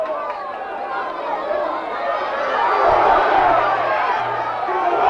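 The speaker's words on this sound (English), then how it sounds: "The crowd go wild." Rugby league stadium crowd roaring after a try in a 2002 Wakefield match, a broad, sustained cheer that swells midway, with a commentator's voice over it.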